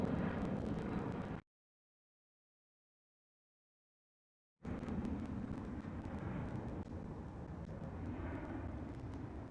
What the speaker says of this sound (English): I do see a British Airways about to line up on the runway